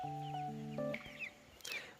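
Young chickens of mixed breeds packed in a shipping box give a few soft, close clucks and peeps, faint and brief with nothing else around.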